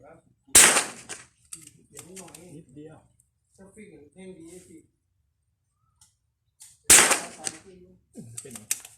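Two loud, sharp reports from a CZ 457 ATONE rifle with a 24-inch barrel, fired several seconds apart outdoors, each cracking close to the mic, with someone talking in Thai between the shots.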